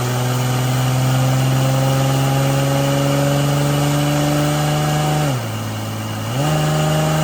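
A 347 Ford stroker engine with an AOD transmission winds up loud and close under steady load, its pitch climbing, then dips briefly as the transmission kicks down before rising again.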